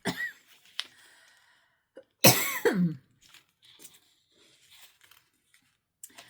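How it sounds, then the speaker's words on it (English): A sharp, harsh cough bursts out close by after a quiet stretch, with a few smaller throat sounds and clicks around it. "Don't mean to be coughing, I don't."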